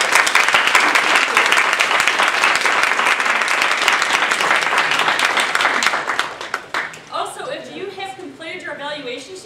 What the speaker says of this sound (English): So let's give Amy one more round of applause